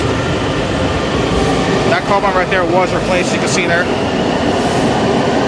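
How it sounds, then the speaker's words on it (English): A WMATA 7000 series metro train passes on the platform level at Union Station in Washington, DC, a steady rumble with rising wheel squeal in the middle, while someone talks over it. "There goes the 7000 series train."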